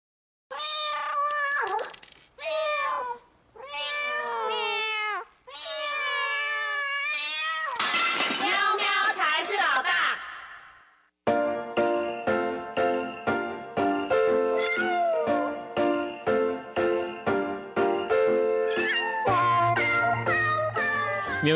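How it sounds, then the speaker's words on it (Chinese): A cat meows repeatedly in close, drawn-out cries for several seconds, then a bright jingling, tinkling musical passage with steady plucked notes takes over. "喵喵才是老大"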